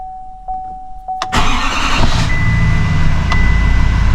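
A 2023 Duramax L5P diesel pickup cranks briefly after a few faint clicks and a chime, then fires into a loud, rough, rumbling idle that settles and keeps running close by.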